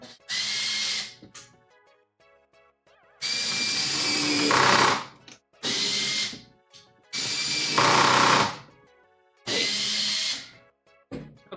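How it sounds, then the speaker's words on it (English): A cordless power drill driving screws into a shop utility cart under construction, several loud whirring bursts of one to two seconds each, rising in pitch as the screws seat, separated by short quiet pauses. "Okay, drill."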